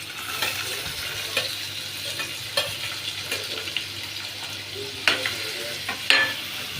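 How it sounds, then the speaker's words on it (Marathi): Onion frying in hot oil in a pan, a steady sizzle with scattered stirring scrapes and occasional sharper crackles, moderately close with no talking. "तर मित्रांनो इथे कांदा आपला भाजून होतोय."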